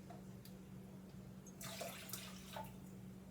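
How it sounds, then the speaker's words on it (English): Water running into a pot of brown rice in a home kitchen, a soft steady pour with a louder splashing burst in the middle, fairly close and faint against a low background hum. "So I'm gonna probably put 3 cups and a half of water."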